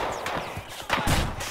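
Gunfire in Battlefield 4 during online play: a few sharp shots crack out in quick succession, fairly close and loud, amid a busy, noisy game mix.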